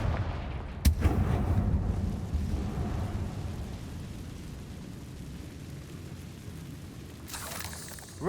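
Confringo fire spells burst with deep booms and rumbling blasts in the Hogwarts Legacy video game, set in the catacombs. A sharp explosion at the start is followed by a heavy rolling roar and a fresh burst at the end.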